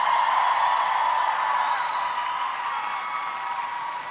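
Sustained applause from a theatre audience greeting musical stars at a 2019 sing-along tribute concert, a dense even wash of clapping that holds steady and eases slightly toward the end.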